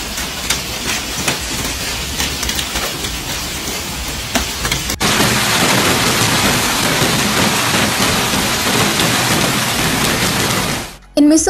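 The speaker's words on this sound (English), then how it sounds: "St. Louis County faced a system of high winds, hail, and heavy rain for most of Saturday." Heavy rain and hail pour down during a severe thunderstorm over St. Louis County, Missouri, a dense, loud hiss that suddenly intensifies midway and cuts off briefly near the end, with faint low rumbles under it.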